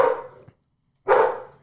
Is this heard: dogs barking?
yes